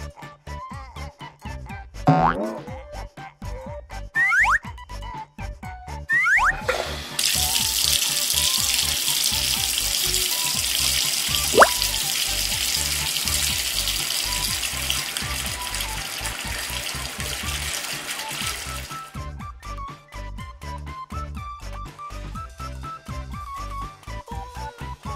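Warm water running from a tap into a toy doll's bathtub, a steady loud gush lasting around twelve seconds, framed by scattered clicks, plastic knocks and springy boing-like toy sounds before and after, with no talking.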